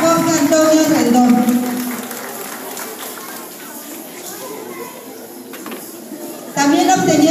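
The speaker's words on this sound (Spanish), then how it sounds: "Un fuerte aplauso para Jorge Antonio Rendón." Applause from a crowd at a kindergarten award ceremony, loud at first and then fading to scattered clapping and background chatter, with a voice speaking over the start and end.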